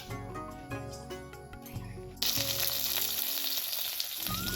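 Oil spits and sizzles in a hot kadai while smoked pork with taro flowers is being cooked, a steady bright frying hiss that begins suddenly partway through and then holds at an even level, with no talking.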